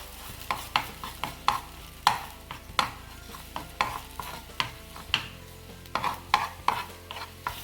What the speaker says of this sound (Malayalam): ഇനി ഈ മുട്ട നമുക്ക് ഒന്ന് ഇളക്കി കൊടുക്കാം.